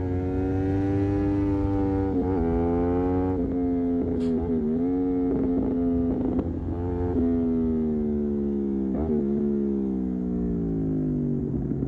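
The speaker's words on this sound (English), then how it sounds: "that Leo Vince exhaust sounds so nice." A motorcycle fitted with a Leo Vince aftermarket exhaust drones steadily and loudly throughout, its engine note rising and falling in pitch as the rider shifts and varies throttle, with no talking.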